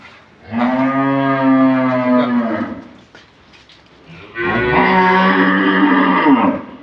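A dairy cow of an improved breed, at a sale in Dinajpur, gives two long, loud, close moos with a short pause between them. No one speaks.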